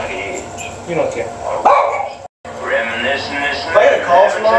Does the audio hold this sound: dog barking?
yes